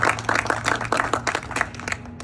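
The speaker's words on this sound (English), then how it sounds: "I hope you can join me in giving a big round of applause to this beautiful building that's behind us" Outdoor crowd applause at an open house for a new spec building in southwestern Kentucky, with a short burst of dense, moderately loud clapping.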